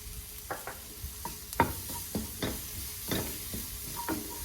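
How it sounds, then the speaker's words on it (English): Sautéing in a pan for New Orleans-style BBQ shrimp: a soft sizzle under repeated scraping stirs of a utensil against the pan, close and fairly quiet. "Now we're gonna let that saute just until it smells really good."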